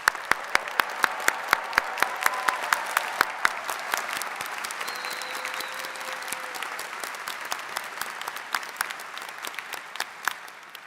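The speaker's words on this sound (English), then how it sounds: "let's give all of our accomplished graduates a round of applause" Sustained audience applause at a university psychology commencement ceremony, dense steady clapping from a large crowd with some sharper individual claps standing out near the front, holding at an even level throughout.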